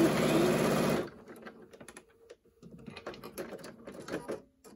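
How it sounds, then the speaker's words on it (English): A sewing machine stitches a pleated fabric mask with a loud, steady motor whir for about a second, then stops, leaving faint fabric handling and scattered small clicks and rustles close by. "I'm going to go ahead and sew the bottom together"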